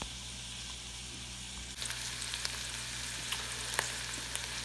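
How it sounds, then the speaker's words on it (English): Bacon, jalapenos and onions frying together in a pot on a stovetop for baked beans, giving a steady close hiss of sizzling with scattered pops and crackles and no talk. "we got our bacon, and our jalapenos, and our onions, all coming along real nice"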